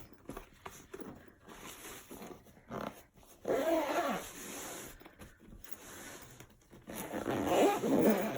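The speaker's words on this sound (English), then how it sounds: "And it fits, and I can zip the bag" A zipper runs along a packed bag in several short bursts, with quiet rustles and pauses between pulls and louder, longer zips near the middle and end.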